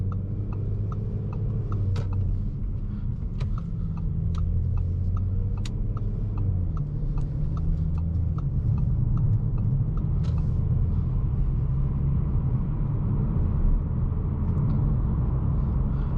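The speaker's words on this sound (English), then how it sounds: "at low speeds, the exhaust really kind of kicks, makes like a good sound" Low, steady exhaust rumble from a 2022 Audi S4 Premium Plus rolling at low speed on a cold morning, a constant engine drone close by with faint ticking on top and no talk.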